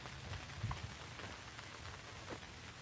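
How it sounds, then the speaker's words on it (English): Water pattering steadily from leaves onto the ground in a rainforest, soft and continuous with a few louder plops. "it's just the sound of the water falling from the leaves"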